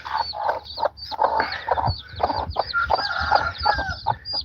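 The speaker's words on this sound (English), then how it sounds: "we do have a couple of cute chickens we can show." Farm chickens cluck and chatter close by, a busy run of repeated short calls and squawks with uneven rhythm and no voices over them.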